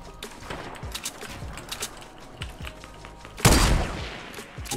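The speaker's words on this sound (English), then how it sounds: "that was just a really bad sniper shot" Gunfire in Fortnite Battle Royale: a series of sharp shots crack out at irregular intervals, with one louder, heavier sniper rifle blast standing out near the end amid lingering game noise.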